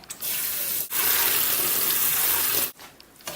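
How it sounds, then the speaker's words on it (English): Tap water runs steadily into a sink as quinoa is rinsed, briefly cut off once, then flowing again before stopping near the end. "The first thing we need to do is rinse our quinoa in water"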